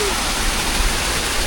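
Continuous roaring rush of falling water, loud and steady with a broad hiss and no breaks.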